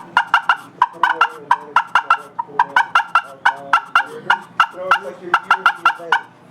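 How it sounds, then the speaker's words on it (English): A hand-held friction turkey call is worked fast to make cutting clucks, a loud close run of sharp, rapid clucks with varied tones and brief gaps, no talking. "Cutting, you just speed that up and dance around on the surface to give you different tones."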